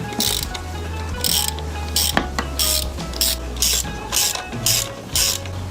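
A ratchet wrench loosens tight engine bolts on a 1980s Yamaha DT125 two-stroke motorcycle, giving repeated close bursts of rapid clicking in an uneven rhythm, with a metallic clank partway through.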